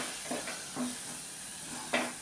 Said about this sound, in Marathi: झालं सर्व अंड्याला छिद्र करून आपण ह्याला